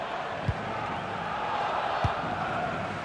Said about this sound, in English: Well, just listen to this crowd.